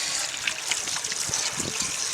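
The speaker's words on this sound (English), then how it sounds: "This is water." Water gushing from a backup water tank at a school's ablution block, pouring loudly and steadily with a splashy hiss throughout.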